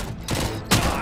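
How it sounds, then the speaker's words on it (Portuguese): Gunfire from a policewoman ally in the Robocop Rogue City video game, heard as bursts of dense, crackling shots that swell partway through and then a sharper, louder volley near the end. "Ela atira mesmo."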